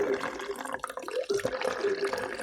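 Fertilizer solution pours into a plant pot during the repotting of an Alocasia, with close trickling and splashing. Small knocks are heard near the middle of the pour.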